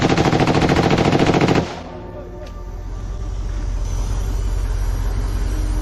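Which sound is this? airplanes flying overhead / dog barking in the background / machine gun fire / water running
machine gun fire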